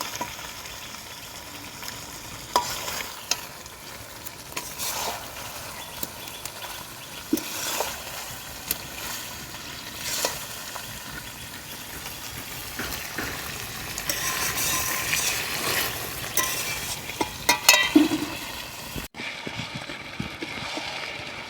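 Chicken and potatoes frying in a pan while being stirred for a country-style chicken curry, with a steady sizzle and scattered scraping and clinking of the spoon against the pan throughout.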